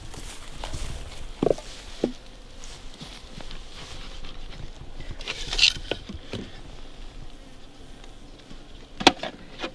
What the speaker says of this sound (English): There's a bee or two that got in there to shoo out.